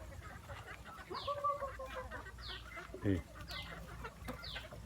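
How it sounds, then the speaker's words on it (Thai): Betong chickens raised at a rural family home cluck in short, repeated bursts, with scattered calls and a low background murmur. "นี่ไก่เบตง"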